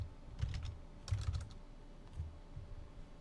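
Quick clicking keystrokes on a computer keyboard as a search is typed, in two or three short bursts, fairly quiet and close with no talking.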